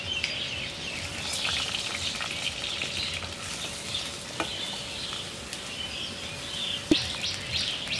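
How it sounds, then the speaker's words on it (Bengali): Onion, ginger and garlic paste fries in a pan, giving a steady, moderate sizzle with faint stirring clicks and a sharper knock near the end; birds chirp softly in the background. "প্রথমে এই যে পেঁয়াজ আদা বাটা রসুন বাটাগুলো দিয়ে দেব।"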